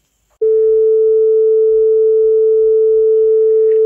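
A single steady electronic tone starts abruptly and holds loud and unwavering, set up as one of two tone sources in a beat frequency experiment, with no speech.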